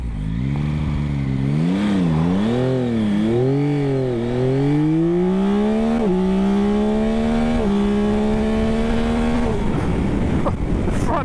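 A Yamaha Tracer 9 GT+ motorcycle accelerates hard, its engine note climbing in pitch through several gearshifts, loud and close with a constant rush of wind.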